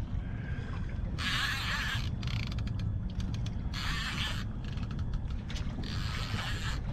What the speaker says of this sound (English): I just have the clicker on just so you guys can hear him run in between